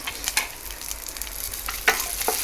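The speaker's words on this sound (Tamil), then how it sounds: "எடுத்து கொஞ்சம் நல்லா வதக்கிக்கலாம்" Small shallots sautéing in oil for chicken sukka: a soft, steady sizzle broken by a few sharp scraping stirs of a spoon against the pan, close by and with no talk.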